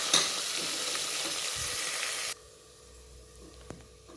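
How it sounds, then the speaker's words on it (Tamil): Coriander and green chillies sauté in a hot pan while pongal is being made, giving a loud, close sizzle that cuts off abruptly about halfway through. A quieter background with a faint tap follows. "அப்புறம் கொத்தமல்லி, பச்சை மிளகாய் போட்டுக்கலாம். கொஞ்சம் இது வதங்கட்டும்."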